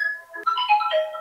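A phone ringtone chimes with a short melodic sequence of bright tones, close and clear, alone without talk.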